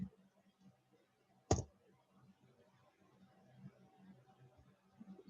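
A single sharp computer mouse click rings out close and alone against a quiet, faintly humming background.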